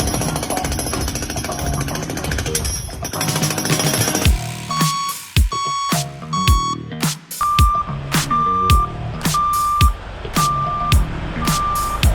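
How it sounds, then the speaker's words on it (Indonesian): A hydraulic hammer excavator breaks rock with loud, rapid pounding, then sharp repeated impacts, while a vehicle's reversing beeps sound at regular intervals in the background. "hammer excavator atau hydraulic excavator adalah ekskavator penghancur batu"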